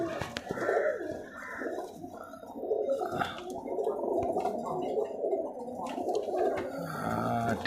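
A Girribaz high-flying pigeon coos close by in low, throaty, gurgling rolls, repeating on and off with short pauses.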